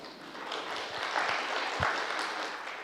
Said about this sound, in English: So can we give them a hearty round of applause?